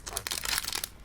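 Foil wrapper of a Pokémon card booster pack crinkles and tears open in a quick, quiet flurry of sharp rustles, close by and brief.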